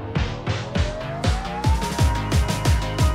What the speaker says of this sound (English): We have that wind up going on.